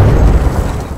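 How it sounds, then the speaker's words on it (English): A 40mm tracking cannon firing in Titanfall 2, a single loud, deep boom that rumbles heavily for a full second. "40mm tracking cannon from across the map"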